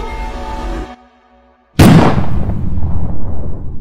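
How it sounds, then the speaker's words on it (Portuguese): A single loud gunshot blast in a Brazilian short drama about domestic violence, arriving abruptly after a brief near-silence and trailing off in a long rumbling decay; no speech. "Foi a primeira vez que João Felipe me deu um tiro"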